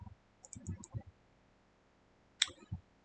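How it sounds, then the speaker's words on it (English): A computer mouse is double-clicked in a quiet room: a crisp pair of close clicks stands out against near silence, with a few soft, faint handling sounds a moment earlier. "So let's double click it."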